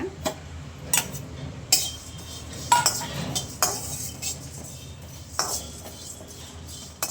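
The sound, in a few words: dry roasting fennel, coriander, curry leaves, pepper, cumin in pan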